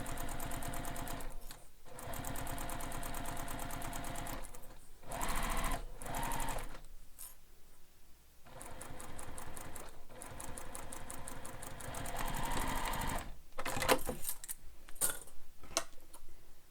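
A sewing machine stitches a handbag seam, its needle rattling in a fast steady run that stops and restarts several times, close up and alone.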